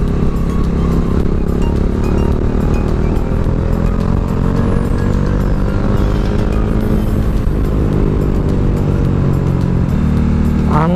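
Traffic heard from a Bajaj Dominar 400 motorcycle on a ride, loud continuous engine drone with rising and falling tones of cars passing close by, no talking.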